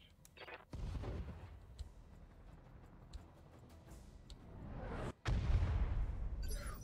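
Artillery fire in the BattleTech campaign comes as a sharp shot followed by sustained rumbling, then a heavier explosive boom near the end, fairly close and loud, with no talking.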